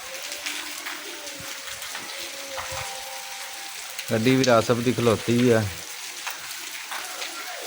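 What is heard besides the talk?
rain falling in a village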